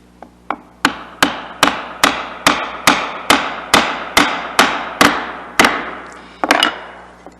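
A mallet strikes a chisel about a dozen times in a steady, even rhythm while dovetail tails are cut by hand in wood. Each blow is a sharp, close wooden knock, and a quick double tap comes at the end.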